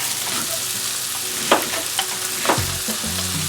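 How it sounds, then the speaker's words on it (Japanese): Garlic, ginger and the white part of scallion sizzle in sesame oil in a frying pan, a steady close crackle with a couple of louder stir or spatula clicks, no voices. "フライパンに火をつけてごま油入れてニンニク、生姜、"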